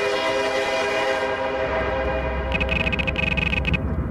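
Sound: train moving by in a video game

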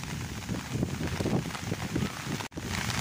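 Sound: rain falling in cold weather

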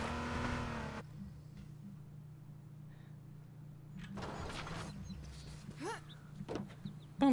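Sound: car driving in H1Z1 video game

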